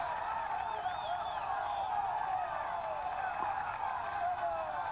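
Roadside crowd at a cycling road race stage cheering and whistling as rider Soler passes, a dense continuous roar of voices and whoops.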